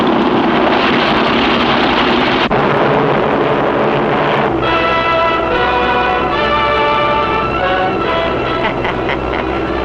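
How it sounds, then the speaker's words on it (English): A stolen dive bomber roars in flight in a Superman cartoon, a loud, continuous propeller-engine drone that shifts pitch midway with a tonal whine, mixed with cartoon score. "Japs are stealing the dive bomber."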